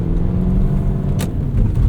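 1998 Lexus GS 400 V8 sedan accelerating, a low steady engine rumble heard from inside the car with road noise, close and continuous over two seconds.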